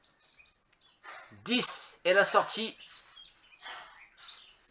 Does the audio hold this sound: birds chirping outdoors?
yes